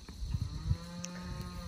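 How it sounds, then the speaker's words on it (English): Cows on a cattle farm low and moo in the morning, several short deep calls early on over a steady outdoor background hum, fairly close and clear with no one talking. "The cows are feeling good this morning."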